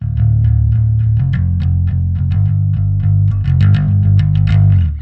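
Bass guitar played through an Ampeg-style amp model preset with noise reduction, a modern heavy tone: loud, sustained low notes with punchy plucked attacks, played alone with no talk.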